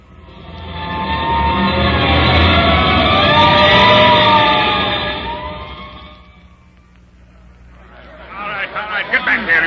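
A fire engine siren for a hook and ladder truck in a 1939 radio drama, wailing loudly and steadily for about six seconds before fading, then a burst of crowd noise.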